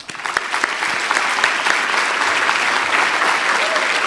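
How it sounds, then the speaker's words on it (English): Audience at a symposium breaks into applause, clapping quickly building and then holding as a dense, steady round of hands throughout. "I do want to lead the first round of public applause and appreciation for their"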